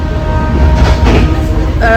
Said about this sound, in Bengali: আর কিছুক্ষণ পরেই আমাদের ট্রেন পুরীতে ঢুকে যাবে